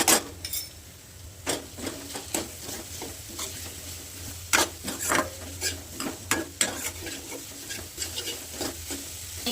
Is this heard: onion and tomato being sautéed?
yes